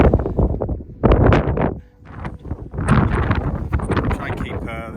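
Wind buffets a camera microphone on an open Lake District fell near Hard Knott, loud rumbling gusts dipping briefly then surging again, close and rough, with a person talking over part of it.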